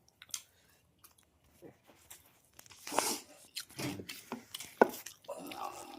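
Someone chewing a mouthful of boiled potato curry, with soft close-up squishing and crunchy bites in irregular bursts, quiet at first and then busier, with murmured voices nearby.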